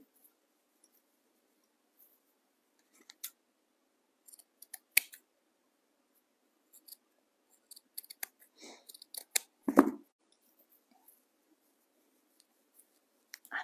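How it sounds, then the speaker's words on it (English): Scissors snip through ribbon trim on a tobacco basket pumpkin, with sparse, close, quiet cuts and one louder snip near the middle, otherwise near silence. "I am going to cut off this ribbon trim"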